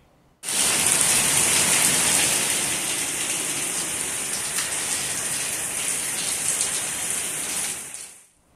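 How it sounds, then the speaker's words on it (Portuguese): Steady rain pours on a Sunday afternoon in Palotina, Paraná, a dense, even hiss of drops that starts abruptly, holds loud and close for about seven seconds, then fades out. "Domingo à tarde com chuva agora sim no Paraná"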